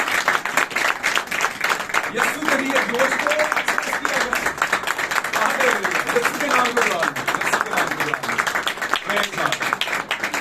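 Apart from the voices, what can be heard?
congregation clapping for the Lord in church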